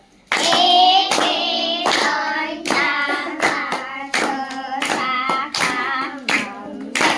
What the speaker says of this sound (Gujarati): ચલો 10 લાડુ તાળી પાડો.